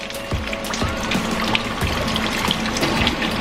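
Water splashing and trickling as goat milking machine parts from a Capralite milker are rinsed out, an irregular close-up stream with small knocks and drips, no talking.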